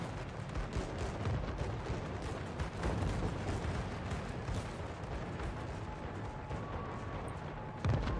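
Naval gunfire in the World of Warships naval battle game, with the cruiser Henri IV in the fight: a dense, continuous roll of heavy booms and rumbling blasts that runs the whole stretch without a break and with no voices.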